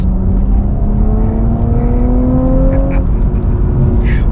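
An Audi S4 B9 sedan with an 8-speed ZF transmission accelerates hard, its engine note rising steadily and loudly up the rev range from inside the car before easing off near the end.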